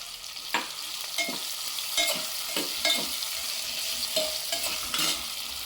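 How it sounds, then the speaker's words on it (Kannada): Beans, capsicum and drumstick pieces frying in a pan, a close hiss punctuated by repeated spatula stirs and scrapes at a loose, uneven rhythm, with no one speaking. "ಈ ಎಲ್ಲ ಥಿಂಗ್ಸನ್ನು ಹಾಕ್ಕೊಂಡು ಒಂದು 2 ನಿಮಿಷ ಫ್ರೈ ಮಾಡ್ಕೊಳ್ತೀನಿ"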